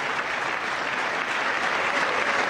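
Sustained applause from a large audience at a State of the Union address, a dense, steady wash of clapping heard at a distance, unbroken throughout.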